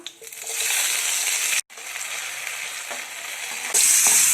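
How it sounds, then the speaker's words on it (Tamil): Onion and tomato hiss loudly in hot oil in a pan as ingredients go in and get stirred, a close, continuous sizzle with a brief break and a sharp surge near the end. "ஒரு பேன் நல்லா ஹீட் ஆனதும் எண்ணெய் சேர்த்துக்கோங்க. வெங்காயம் சேர்த்துக்கலாம். தக்காளி ஒன்று சேர்த்துக்கலாம்."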